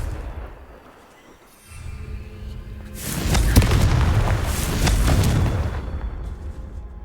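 A Confringo spell explosion in Hogwarts Legacy: a quiet lull gives way to a deep rumbling boom that swells and holds loud for several seconds with crackling bursts, then fades.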